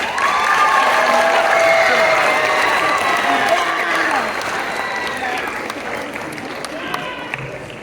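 An audience at a Black History school assembly applauds loudly, a dense, sustained wash of clapping mixed with some cheering and shouts that gradually eases toward the end.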